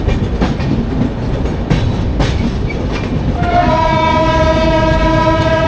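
A Dhauli Express train runs with a steady, loud rumble, and a long horn sounds near the end over the running noise.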